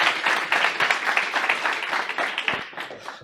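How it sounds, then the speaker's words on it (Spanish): Audience applause at the T3chFest 2024 tech conference in a hall, dense continuous clapping from many hands that stays loud and even for over three seconds before starting to thin out. "Un aplauso"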